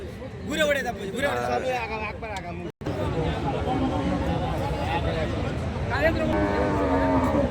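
Bullocks moo loudly and repeatedly amid a noisy crowd of people talking at a busy livestock market.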